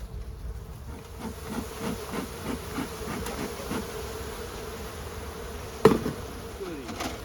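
Honeybees buzz around an opened hive, a constant close hum of many insects with individual bees droning past, plus a brief knock near the end.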